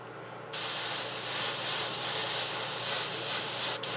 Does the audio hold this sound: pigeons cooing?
no